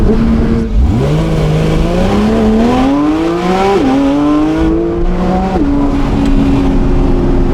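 A Porsche 992 GT3's flat-six revs hard on the road, the note sweeping up through several rising pulls with sharp drops at the gear changes, loud, close and clear with no talk over it.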